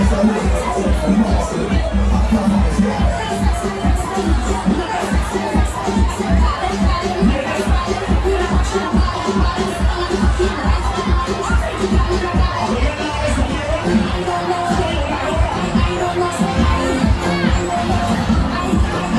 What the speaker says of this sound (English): clearly that's a mammoth crowd. That is a huge turnout at the Bayrock ground